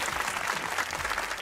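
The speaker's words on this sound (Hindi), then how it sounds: "तालियां।" A studio audience on a comedy talk show claps together heading into a break, dense and steady applause with no gaps.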